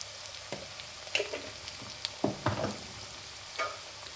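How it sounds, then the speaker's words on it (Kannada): Ginger paste frying in oil with onions in a pan, a soft sizzle broken by a few scattered stirring scrapes and clinks, quiet and close with no talking. "ಇವಾಗ ಒಂದು ಟೇಬಲ್ ಸ್ಪೂನು ಶುಂಠಿ ಪೇಸ್ಟ್ ಹಾಕ್ತಾಯಿದ್ದೀನಿ."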